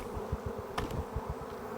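A swarm of bees on a branch gives off a close, pulsing buzz with a throbbing low drone and one sharp brief rustle, with no voices.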